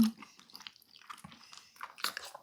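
Close, quiet chewing of braised Korean pork feet (jokbal) and carrot, with soft bites and moist crunching that come and go over a couple of seconds, no voices.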